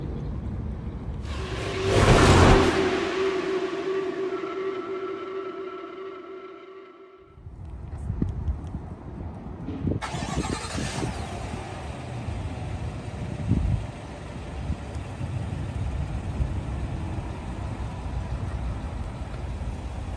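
A 2021 Chevrolet Suburban High Country with a 6.2L V8 cranks with a loud whirring burst, fires, and settles into a steady close idle, followed by a quieter stretch and a fresh, constant broadband hum.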